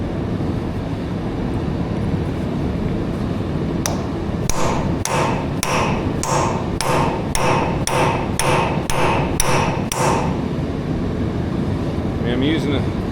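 A full-size hammer, not a claw hammer, strikes an A4T rear axle: about a dozen sharp metallic blows land in a steady, even rhythm, close and loud over a low background hum.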